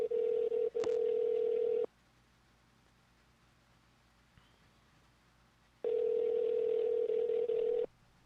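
A telephone call is placed: two long, loud steady ringback tones with a silent gap between them, heard close and alone, plus a brief click near the start.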